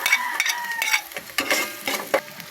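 Sliced onion stirred into hot oil with browning garlic, giving a steady sizzle broken by sharp scrapes and clinks of a utensil against the pan, close and loud.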